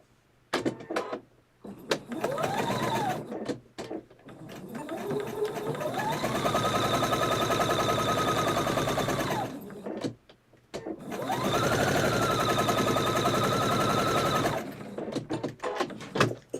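A sewing machine stitches an Old Maid quilt block in bursts, its motor whirring up, running steadily for several seconds, then stopping, with two long runs and shorter starts around them, fairly close and moderately loud.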